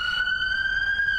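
An ambulance siren holds a steady, loud high-pitched wail for about a second, heard alone with no talk.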